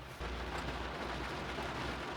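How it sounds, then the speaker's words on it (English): Rain drumming on a car from inside the cabin, a dense, steady wash of noise with a low rumble, loud and continuous with no voices. "Can you hear that rain?"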